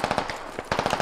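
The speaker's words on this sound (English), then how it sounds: "I hear AKs over there too." AK rifle fire in the military shooter game Squad: rapid bursts of automatic shots, a quick rattling string, then a brief pause and another burst, fairly close and loud, with no talking.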